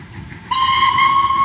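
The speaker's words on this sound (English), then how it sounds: "Oh, you hear a train?" An old tourist train dating from 1900 sounds a long, steady whistle that starts a third of the way in and holds to the end, loud and close over a low background rumble.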